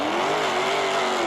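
Drag racing cars on stock tires launching hard, a loud sustained engine roar with steady droning pitch, close and continuous for about a second.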